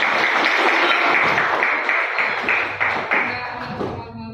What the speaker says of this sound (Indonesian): beri tepuk tangan dulu buat Linda.